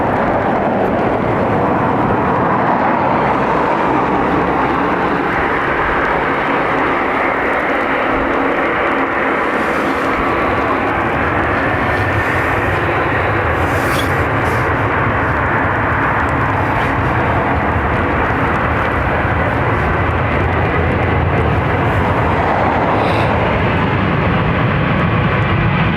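A jet airliner rolls for takeoff on runway 10 right at Dublin Airport, a loud, sustained engine roar filling the air throughout, steady and powerful with little change in level.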